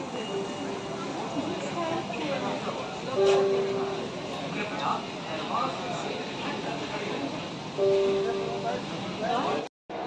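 A Kolkata metro train on the underwater line beneath the Ganga runs with a constant rolling rumble inside the carriage, brief electronic tones and murmuring passenger voices, cutting out abruptly near the end.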